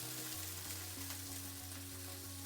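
Brinjal pieces, cut and soaked in salt water, frying in hot oil in a pan, giving a faint, steady sizzle over a low background hum.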